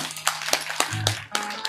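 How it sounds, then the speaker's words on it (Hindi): Scattered claps from an audience at a Bhagwat katha religious gathering in Noida, short uneven bursts over a few seconds, fairly close. "हाँ ये माता के लिए ताली बजाओ दूर से।"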